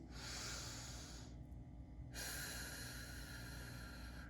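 Steady, heavy breathing through the nose and mouth while holding a stretch in a general exercise class, continuous broadband breath noise with a short quieter pause in the middle, close and alone without talk.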